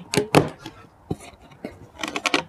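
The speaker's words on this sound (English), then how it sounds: "So I'm going to use this knife and I'm going to open this up" A knife slices open a cardboard box holding a Petra Prime sprayer, giving close, sharp scratchy bursts of cutting and tearing in quick, uneven strokes with brief pauses between them.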